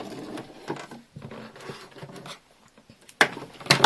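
A sewing machine stitches elastic onto panty fabric in short bursts of needle chatter separated by brief pauses, with louder, sharper runs near the end; close and clear, with no talking.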